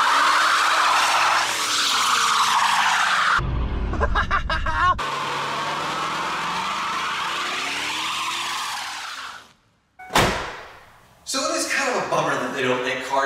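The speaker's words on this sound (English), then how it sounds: "An added bonus to all this luxury is that it is a burnout machine." A Lincoln Mark VIII luxury coupe spins its tires in a burnout on wet pavement, a loud sustained roar and screech that breaks off briefly, flares in a sharp burst, then returns at full strength.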